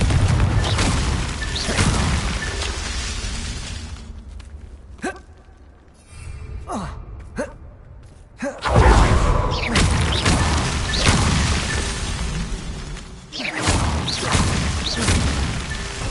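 A Confringo blasting spell in a dark-magic Harry Potter video game sets off booming explosions with crashing debris, loud and near, a brief lull of sharp clicks and thuds midway, then more heavy rumbling blasts.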